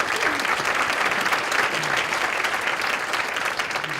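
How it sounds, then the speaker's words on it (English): A meeting audience at a healthcare task force gathering in Rome, Georgia, breaks into sustained, full applause, a close, even wash of many hands with faint voices underneath. "Let's give him a round of applause."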